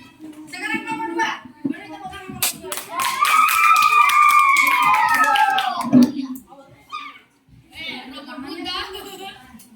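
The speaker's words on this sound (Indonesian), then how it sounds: "Beri tepuk tangan kelompok 2" A group of children claps and cheers for a classmates' robot team in a classroom coding lesson: a dense burst of applause with excited young voices rising over it, after a teacher speaks, then fading to scattered talk.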